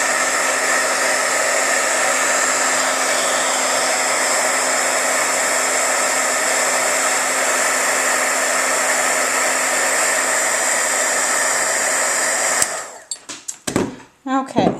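A hair dryer blows steadily and loudly, drying vinyl on a glass block, running unbroken for about twelve seconds before cutting off into a few scattered handling knocks.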